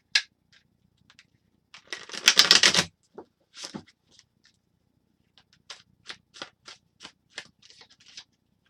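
Steampunk tarot cards are shuffled close up, with one brisk riffle burst followed by a series of short, scattered card snaps and flicks.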